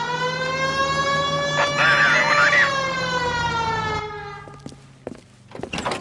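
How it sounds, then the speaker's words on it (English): A police siren in L.A. Noire wails in a long rising and falling tone, loud and close, then fades out as a few thuds and bumps follow. "Hit the siren."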